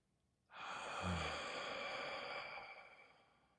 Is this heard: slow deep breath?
yes